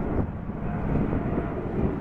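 A fixed-wing airplane at Detroit Metropolitan airport roars steadily with jet engine noise, a dense continuous rumble with wind buffeting, loud and sustained throughout.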